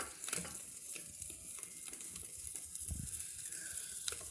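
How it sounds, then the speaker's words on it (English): Powdered sugar glaze whisked in a bowl: soft, quiet scraping with scattered light clicks of the whisk against the bowl, continuous and close. "we're going to whisk that together"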